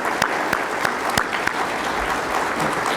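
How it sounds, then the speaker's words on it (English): Steady audience applause at a mural unveiling ceremony, dense and continuous with a few sharper claps standing out, moderately loud and without talk. "Let's give them a round of applause."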